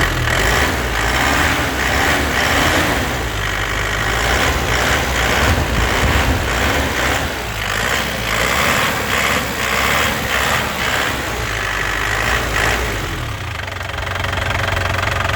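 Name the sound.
engine revving on a 2007 black Turbo touring vehicle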